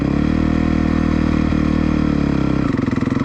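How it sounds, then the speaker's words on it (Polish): A CRF motorcycle in first gear has its clutch let out with a little throttle. The engine hums loud and steady at close range, then turns rough and jerky near the end. "Mam jedynkę i patrzcie jak puszczam sprzęgło trochę z gazem."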